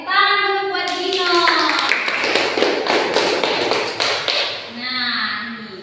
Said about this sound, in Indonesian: Oke, tepuk tangan dulu buat Dino.